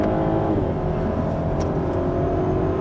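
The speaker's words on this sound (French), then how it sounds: "Sonorité du 3 litres 2" An Audi A3 with a 3.2-litre V6 and quattro drive accelerates hard, its engine note loud, close and sustained as it revs smoothly throughout.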